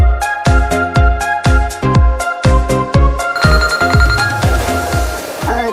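A phone ringtone plays a bright, repeating electronic melody, loud and close, with regular pulsing notes and no voices.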